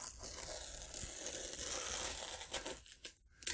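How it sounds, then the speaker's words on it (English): Tape pulled away from an acrylic painting, a continuous close crinkling and tearing rasp that rises and falls, ending in a few quick sharp rips. "I think I'm going to go ahead and take the tape off"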